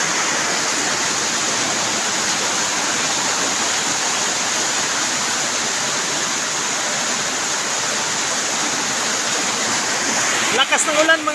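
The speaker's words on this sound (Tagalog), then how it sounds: "Lakas ng ulan, mga kamuta dito sa bukid namin." Heavy rain pours steadily on a farm, a dense, even hiss that holds for the whole stretch, with a short knock or clatter near the end.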